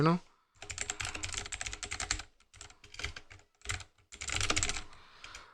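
Computer keyboard typing close to the mic, in fast bursts of clicking keystrokes separated by short pauses.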